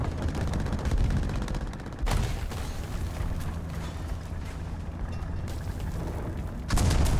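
Video game gunfire, a dense, loud blast of firing that opens sharply, settles into a sustained rumbling barrage, then bursts louder again near the end.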